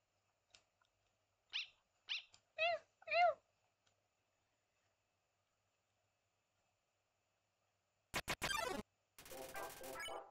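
Dog enemy cries in the video game Undertale, a few short bursts early in the clip followed after a pause by loud, dense, rapidly sweeping electronic squeals near the end, with no talking.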